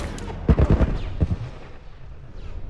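A military turret fires in The Last of Us, several heavy booming shots in a quick cluster followed by a couple more and a fading rumble, loud and close.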